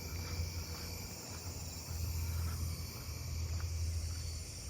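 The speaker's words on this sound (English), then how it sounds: "Fall field crickets, I'm hearing those" Fall field crickets chirp against a chorus of other night insects, a faint, continuous shrill layer over a low steady hum, with no one speaking.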